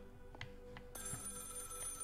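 A phone rings in a video game, short bursts of a ringtone over quiet game ambience, which thickens into a fuller tone partway through, faint and without talk.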